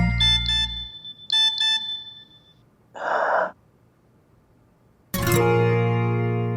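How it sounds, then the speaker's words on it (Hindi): Phone notification sound for Sara: two pairs of bright, rapid electronic beeps, then a short breathy burst, followed by a loud chiming sweep of rising tones near the end. "सारा का नोटिफिकेशन"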